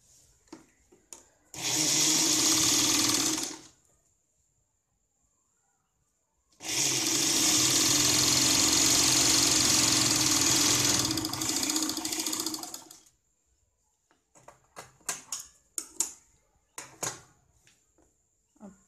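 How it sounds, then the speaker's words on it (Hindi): A sewing machine stitches a blouse lining in two loud, close runs, one short and one longer, followed by scattered clicks and handling noises. "इसको हम यहाँ पे एक सिलाई लगाते हैं।"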